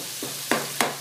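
Pork chops fry in a pan over high heat, a steady close sizzle with a few brief louder spits and pops breaking through about every quarter second.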